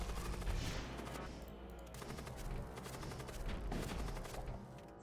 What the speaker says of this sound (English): Shoot a mine bolt at my own ship here.